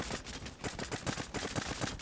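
Rapid bursts of gunfire in the video game Creative Destruction crackle in quick, uneven volleys, fairly quiet and muffled, with no talk over them.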